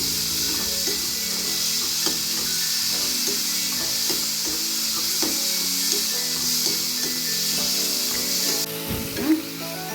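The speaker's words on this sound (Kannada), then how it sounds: "ಟೊಮೊಟೊ, ಈರುಳ್ಳಿ ಎಲ್ಲ ಚೆನ್ನಾಗಿ ಫ್ರೈ ಆಗಿದೆ." Tomato and onion frying in a pan give a steady, continuous sizzle, with soft scraping and stirring knocks throughout.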